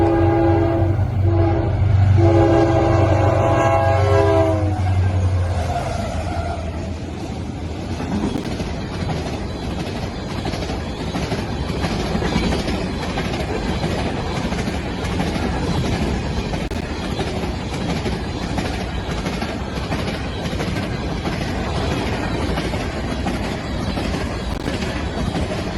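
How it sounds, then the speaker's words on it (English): Freight train G104 passes with two Pan Am C40-8 locomotives trailing, opening with loud, sustained horn blasts and then a steady, close rumble and clatter of rolling wagons that continues to the end. "For the last train of September, it is G104 with 2 Pan Am"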